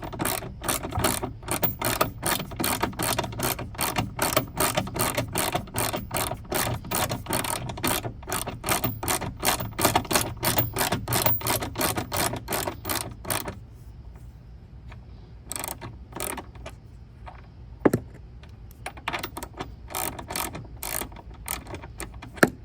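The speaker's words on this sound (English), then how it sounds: "take our 13 millimeter socket, put it right up to here, and then take that bolt out" A 13 mm socket ratchet clicks rapidly and steadily as it backs out the intake box bolt on a 2021 Ford F-150 with a 5.0 engine, then slows to a few scattered clicks near the end.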